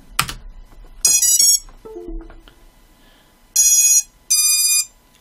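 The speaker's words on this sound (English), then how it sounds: "And type save." A command is typed on a computer keyboard while setting up a drone: a few brief, close key clicks, then loud steady electronic beep tones in several bursts, with no talking.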